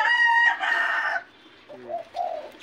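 Chicken vocalizing nearby, a loud harmonic crowing-like call followed by softer short clucks after a brief pause.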